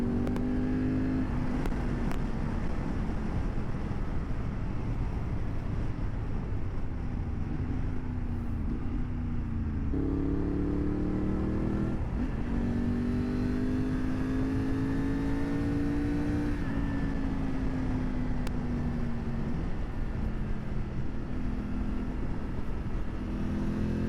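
A Triumph Tiger 900 Rally Pro motorcycle accelerating on a ride, its engine note climbing steadily through gear changes, loud and close with continuous wind and road noise and no talking.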